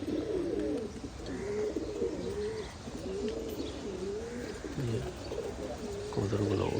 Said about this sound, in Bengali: কবুতরগুলো উঠতেছে।